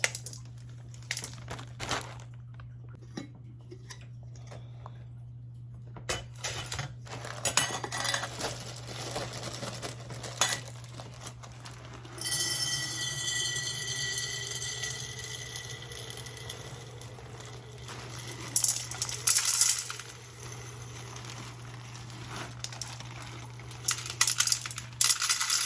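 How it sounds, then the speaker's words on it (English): Dry beans rattle and pour in crisp, close-up cascades, with scattered clicks and rustling handling between longer streams of tumbling beans, quiet and without talk. "A little bit of bean ASMR for you."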